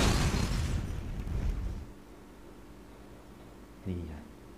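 An explosion in the PS2 game Gundam True Odyssey: a loud burst of noise rumbles and fades over about two seconds, followed later by a short, sharper pop.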